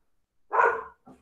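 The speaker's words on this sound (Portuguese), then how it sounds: "Desculpa o meu cachorro aí, gente, desculpa." A pet dog barks once, then gives a shorter, softer bark, heard alone in a quiet home, fairly close but not loud.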